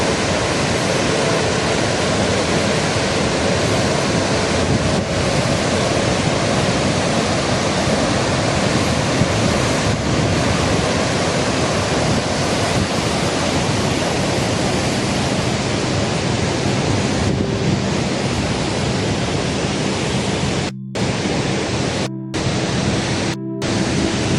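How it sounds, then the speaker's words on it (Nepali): Steady, roaring rush of falling water from a waterfall at Khudi, Nepal, fills the whole stretch, dense and constant, with a few brief dropouts near the end. "झरना खुदी झरना हुँदैछ"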